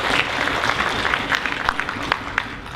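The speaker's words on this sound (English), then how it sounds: "Big round of applause for Tan Sri Munir," Audience at a business summit clapping, a dense sustained applause with scattered sharper claps, moderately loud and filling the room.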